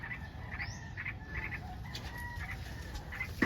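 A parent bird calls near a garden nest of newly hatched chicks, giving short chirps and a brief rising whistle that repeat over steady background hiss at moderate distance.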